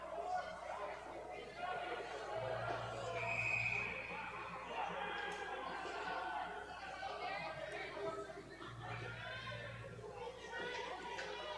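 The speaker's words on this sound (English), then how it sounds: "Huge crowd here in the rec center" Large crowd murmuring and chattering inside a rec center rink at a college ice hockey game, a steady, dense wash of many voices with no single standout sound.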